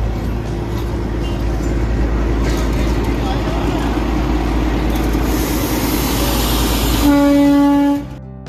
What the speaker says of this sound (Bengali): এই হচ্ছে টয় ট্রেন।